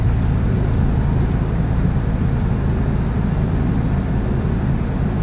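A vehicle engine works in reverse on clam beds, its gas applied gently, giving a loud, steady, unbroken rumble throughout with no voices.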